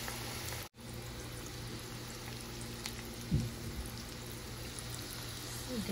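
Egg chops deep-frying in hot oil, a steady soft sizzle and bubbling throughout with one brief dropout and a small splash near the middle, fairly quiet and with no talk.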